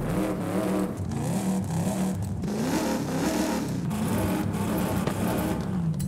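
A car engine revs hard through an upgraded exhaust in Forza Horizon 5, a loud, continuous roar with rising and falling pitch that fills the whole stretch with no talking.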